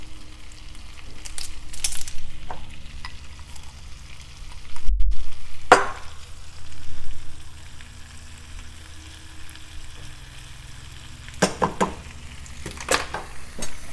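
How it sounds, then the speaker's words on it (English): Diced celery and other vegetables sautéing in a pan give a steady low sizzle, with a few sharp scrapes and clinks of stirring around the middle and near the end. "we're going to mix that all together and let that saute about 5 to 7 minutes"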